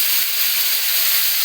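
Pieces of fish hit hot frying oil with fried onions in a home kitchen while a fish curry with brinjal and potato is being made, producing a loud, steady, close hiss of sizzling.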